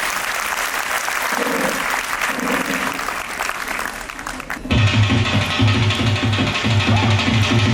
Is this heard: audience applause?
yes